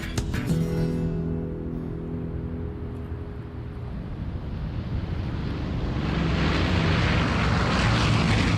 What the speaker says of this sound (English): Transportation today, first class on an Air Force cargo plane with canvas seats and no air conditioning.